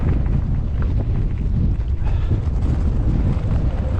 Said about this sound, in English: Some pretty good gusts of wind here